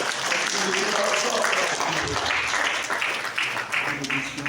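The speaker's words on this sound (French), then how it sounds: "que je demande vraiment d'applaudir très très très fort" An audience at the FESPACO 2025 poster unveiling applauds the deputy mayor, a continuous wash of clapping mixed with voices talking over it.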